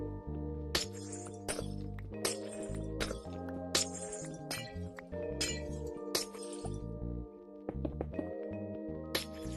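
Glass blocks being broken in a video game, a series of about a dozen sharp clinking shatter sounds at an uneven, roughly one-per-second pace, each over a tonal game music background.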